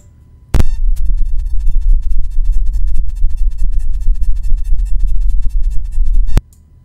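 Purported alien radio signal picked up by SETI: a loud, steady throbbing hum with regular pulsing beats, starting abruptly, droning for about six seconds, then cutting off sharply.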